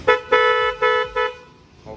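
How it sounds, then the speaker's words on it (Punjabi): Aftermarket horn on a modified 2005 Hero Splendor motorcycle, sounded in four short honks of a bright, buzzy tone, close and loud, with a fifth brief start at the end. "ਹਾਰਨ ਲੱਗੇ ਜੇ 200 ਰੁਪਏ 'ਚ ਸਹੀ ਨਾ ਹਾਰਨ"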